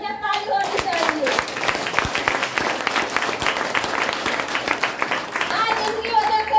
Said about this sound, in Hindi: इनके लिए जबरदस्त ताली होनी चाहिए।